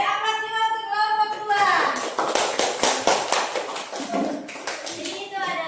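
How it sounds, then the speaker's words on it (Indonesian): A classroom of students claps for a student group, a few seconds of scattered applause mixed with talking and children's voices. "Beri aplaus juga untuk kelompok"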